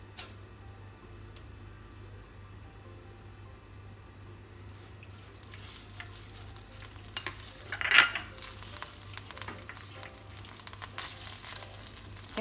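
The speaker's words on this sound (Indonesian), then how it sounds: "Lalu tumis saus sambal dan saus tomat." Quiet sizzling and stirring of chili sauce and tomato sauce in a pan, a soft hiss with scraping, rising briefly in a louder burst midway.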